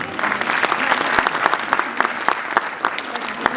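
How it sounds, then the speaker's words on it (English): An audience applauds at a school annual day, giving steady, dense clapping with crisp individual claps standing out, fairly close and even in loudness from start to finish. "Can I have a big round of applause, please?"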